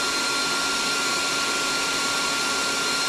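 Steady, loud broadband whir of an air compressor filling a Hatsan Blitz PCP air rifle, running continuously without pause and with no talking.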